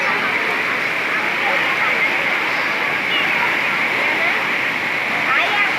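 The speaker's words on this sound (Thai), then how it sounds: "น้ำไหลแรงมากครับ" Fast-flowing water rushes loudly and continuously, a dense steady roar of the overflowing Huai Saneng stream in Surin, Thailand, close by.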